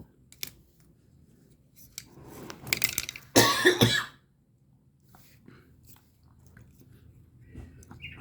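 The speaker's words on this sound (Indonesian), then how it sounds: "Ini nggak tahu kok batuk ya." A person coughing close to the microphone, a short burst of harsh, loud coughs in the middle after some rustling, with quiet before and after.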